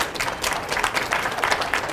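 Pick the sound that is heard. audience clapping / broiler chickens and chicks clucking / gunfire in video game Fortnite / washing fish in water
audience clapping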